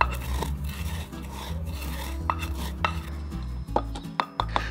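Coriander seeds and pepper being ground roughly together for biltong spice, a steady gritty rasping and rubbing that continues throughout, with a few sharper knocks near the end.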